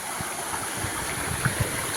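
Continuous splashing flow of a small waterfall close by in Bad Harzburg, with small gurgles and bubbling pops over a steady hiss.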